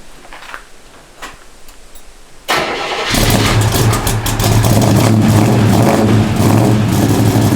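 A 1969 Chevrolet Camaro Z28 V8 cranks and fires on a cold start, then settles into a loud, rumbling high idle with a deep, lumpy tone. Quiet background shuffling comes before the ignition, and no one talks.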